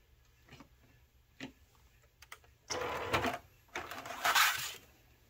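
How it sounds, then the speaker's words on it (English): A Silhouette Cameo 3 cutting machine unloads its cutting mat, starting with a few faint clicks and ticks, then moving into two louder whirring bursts of motor and rollers, heard close up with no talking. "Next, we're going to unload the cutting mat."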